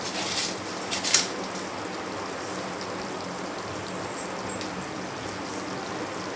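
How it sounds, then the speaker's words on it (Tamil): A pot of Ramzan-special biryani bubbles on the boil, a steady close watery burble and hiss with a brief clink near the start. "இப்போ கிளறி இல்லாமா நல்லா கொதிச்சு வந்துருச்சு"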